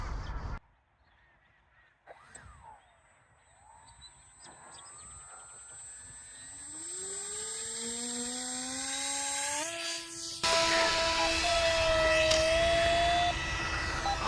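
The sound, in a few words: model airplane flying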